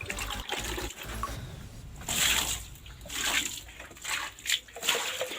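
Water pours from a hose pipe onto a garden during rainy weather, a steady splashing rush that swells in bursts with a few sharper spatters near the end.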